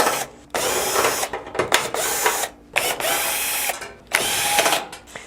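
A power drill removes screws from the back panel of a Frigidaire FGF379WECS oven in several short, loud whirring bursts separated by brief pauses, close by and with no voices.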